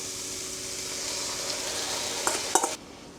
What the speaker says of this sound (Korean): 2분 후에 양념장을 넣고 1분을 더 끓입니다